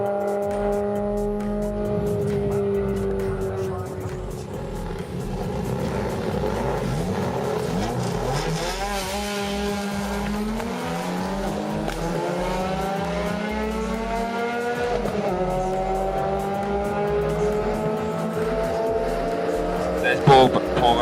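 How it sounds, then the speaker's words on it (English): A supercharged V8-powered VW fastback drag racing, loud engine roaring and revving steadily upward through gear changes, sustained and close over the whole run, with an announcer's voice under it. "Matt Atwood, in his VW fastback runs right down into the 11s in that V8 powered supercharged beast."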